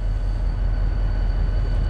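Cuyahoga Valley Scenic Railroad passenger train with at least 11 cars, heard from inside a 1949 Budd-built coach: a steady, loud low rumble of wheels and running gear with no voices.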